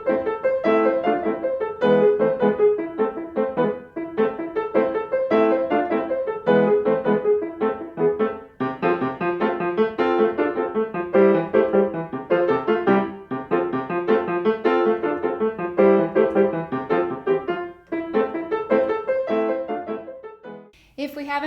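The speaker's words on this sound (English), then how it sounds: "Today we're talking about how to teach The Wild Horseman or The Wild Rider by Robert Schumann." Solo piano plays Schumann's The Wild Rider, Op.68 No.8, a brisk, bouncing staccato melody in steady rhythm that runs close and clear throughout, then breaks off near the end.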